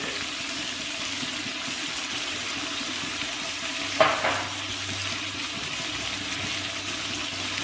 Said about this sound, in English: we will saute it a little bit.